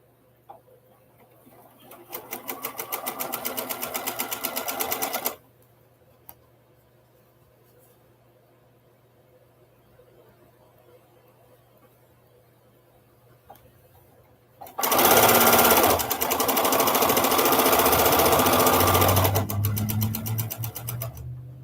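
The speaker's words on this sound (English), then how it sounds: "I'm going to go ahead and sew that right away" Sewing machine stitching a charm quilt seam in two long bursts of rapid, steady whirring, separated by a quiet pause, the second run louder and closer.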